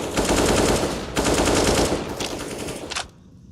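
Loud, close automatic gunfire during a Counter-Strike match at a professional esports tournament, with three long sustained bursts that end abruptly into quiet.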